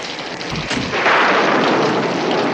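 Thunder with rain in a Nancy Drew video game, a sharp crack followed by a swelling, loud rolling rumble over a steady wash of noise, with no talking.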